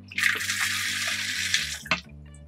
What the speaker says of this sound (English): So now we're gonna get the cooked corn into here.